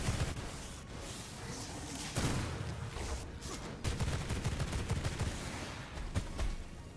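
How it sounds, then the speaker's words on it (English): Pistol fire in the vampire survival game V Rising, a rapid string of sharp shots crackling over a busy, rumbling combat mix, loud and close for most of the stretch. "this is a perfect time to use my pistols"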